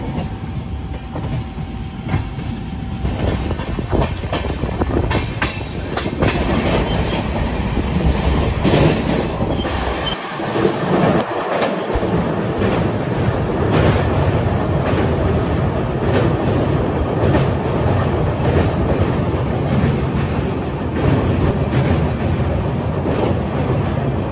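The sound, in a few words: Howrah–Barbil Jan Shatabdi Express train running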